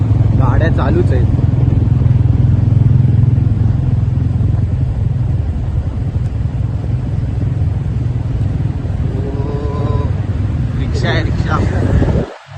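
Motorcycles and cars run through a long road tunnel still under construction between Badlapur and Panvel, making a loud continuous roar with wind buffeting while someone talks over it.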